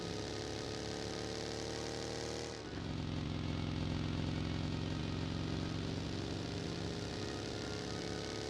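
A motorcycle engine in the PUBG video game idles steadily, then revs up a little partway through and holds a loud, constant drone with no voices.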